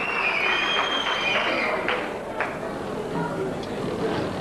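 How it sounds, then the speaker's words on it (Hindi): Audience clapping for a performer at a film stars' stage show, a broad wash of applause and crowd noise running steadily beneath someone speaking over a microphone. "जोरदार तालियां बजाए दोस्तों पद्मा जी का"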